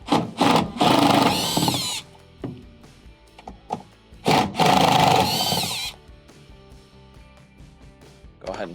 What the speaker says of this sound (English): the 2 bolts on the top, we can actually remove with our drill